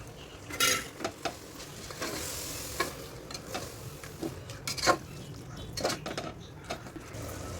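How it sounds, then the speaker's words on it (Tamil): Mutton biryani gravy with curd, coriander and mint is stirred in a pot, giving soft, irregular scrapes and clinks of a spoon against metal over a faint, quiet simmer and sizzle. "கிண்டி விட்டு நல்லா வதக்கி"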